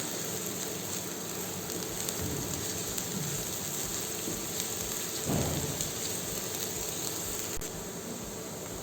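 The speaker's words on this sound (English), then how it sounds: "Heat oil, add fine chopped onions, saute it very well." Finely chopped onions sizzle in hot oil for a chilaquiles sauce, giving a dense, constant crackling hiss with a slight surge midway.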